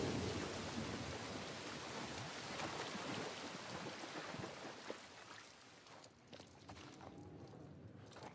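Steady rain falls outdoors in The Last of Us Part 1, a dense, even hiss that fills the whole clip and thins slightly near the end.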